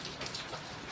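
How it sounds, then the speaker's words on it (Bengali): Heavy rain falls outside in Manali, heard as a faint, steady hiss of drops with no voices. "আর বাইরে তো প্রচন্ড বৃষ্টি হচ্ছে।"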